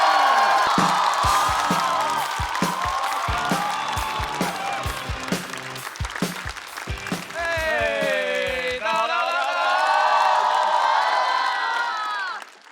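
A live comedy-show audience at a stand-up and manzai event cheers, whoops and shouts loudly, with applause and excited crowd noise swelling and continuing throughout.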